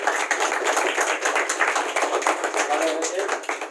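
An audience claps loudly and steadily to honour the first-prize winner of a quiz competition, a dense burst of hand claps filling the room for several seconds with a busy background murmur.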